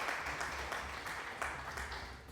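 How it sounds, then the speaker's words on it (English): A short canned applause sound effect plays as a stream alert, a fairly quiet, dense burst of clapping running steadily for a couple of seconds. "Sound alerts, 20 bits, applause"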